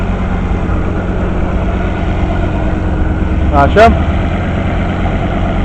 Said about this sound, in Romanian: Deci acesta este motorul.